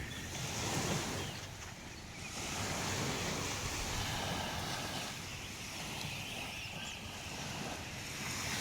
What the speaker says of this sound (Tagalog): Kalmado ang karagatan.